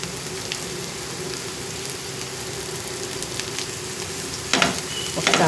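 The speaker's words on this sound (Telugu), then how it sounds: "ఇక్కడ ఉల్లిపాయలు ఎంత బాగా వేగిపోయినాయో" Onions frying in a pan for a coconut cabbage stir-fry, a steady close sizzle running throughout, with scraping stirs and a louder burst of spatter near the end.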